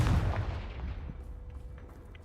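A Confringo blasting spell explosion in Hogwarts Legacy: a single loud, deep boom at the start that rumbles and decays over about two seconds, with no talk.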